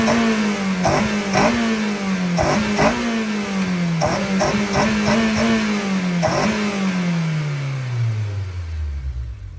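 A Honda S2000 with a stock intake, before a CompTech install, is revved repeatedly in short sharp blips over a falling engine tone, loud and close, ending as the revs wind down.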